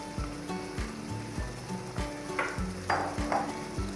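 Marinated chicken frying with onion and ginger-garlic paste for a shahi chicken dish, sizzling steadily in the pan while a spatula stirs and scrapes it in repeated close strokes.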